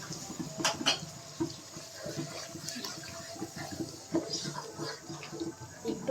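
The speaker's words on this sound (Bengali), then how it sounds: "এরপর অল্প একটু পানি দিব।" A little water is poured into fish curry masala frying in a pan, giving a faint, brief splash and sizzle among soft kitchen sounds.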